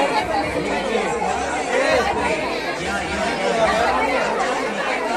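Crowd chatter at a village fair and palanquin procession, a dense, steady murmur of many overlapping voices close by, continuous for the whole stretch.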